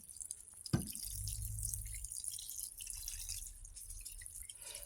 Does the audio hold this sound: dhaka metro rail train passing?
no